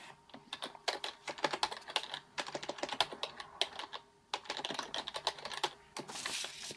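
Fast typing on a computer keyboard, close and crisp, with bursts of rapid key clicks broken by brief pauses, no voices.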